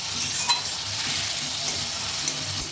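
Potatoes fry in hot oil with whole garam masala as they are stirred, giving a steady, close, loud sizzle broken by a few sharp scrapes of the spoon against the pan, with no talking.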